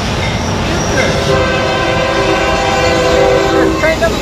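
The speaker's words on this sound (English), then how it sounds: "Train number four." A train passes close by on the line, a loud continuous rumble of the cars with a sustained horn blast sounding over it.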